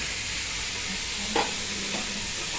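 Sambar sizzles steadily in a pot while a spoon stirs briefly, a constant hiss with one soft scrape.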